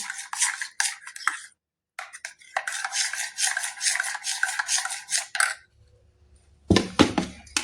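Egg pudding batter whisked with milk in a bowl: brisk rhythmic scraping and clinking of a utensil against the bowl in long bursts, pausing briefly, then resuming near and clear without talk.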